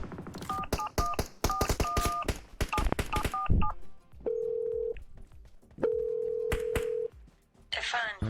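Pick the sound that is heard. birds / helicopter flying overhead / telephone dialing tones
telephone dialing tones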